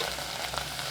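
Mushrooms sizzle steadily in a hot pan while being cooked alongside a pork scotch fillet steak, a dense, close frying hiss throughout the short moment with no voices.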